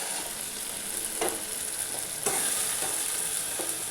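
Paneer cubes frying in a cooked spice masala, a steady close sizzle with a few sharp stir-and-scrape bursts from the spatula, and no talking.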